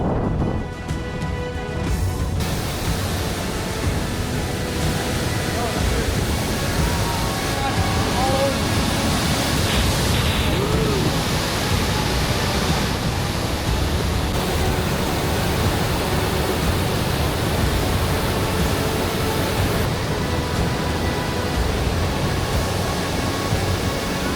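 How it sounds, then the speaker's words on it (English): The second, larger cascade of Iguazu Falls roars continuously, a dense, loud, unbroken wash of falling water close at hand that fills the whole stretch without pause. "Now it comes the grand finale, the second waterfall."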